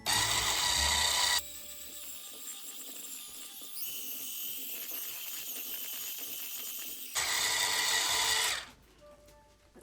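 An electric hand mixer whirs steadily through cornflake cookie dough, its motor loud and continuous, shifting pitch partway as it works, then cutting off near the end.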